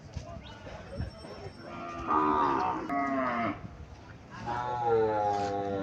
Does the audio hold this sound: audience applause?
no